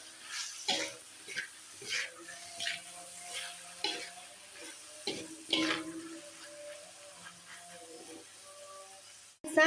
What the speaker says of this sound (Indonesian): Selanjutnya kita akan aduk-aduk.